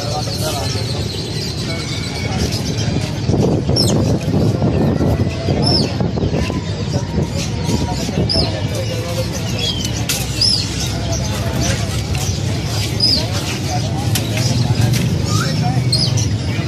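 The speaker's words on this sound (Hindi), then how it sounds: "ये कबूतर हैं, देखिए आला किस्म के नस्ल के कबूतर हैं इनके पास।" Fancy-breed pigeons at Empress Market in Saddar, Karachi, cooing and fluttering among scattered chirps against busy market noise, with voices mixed in.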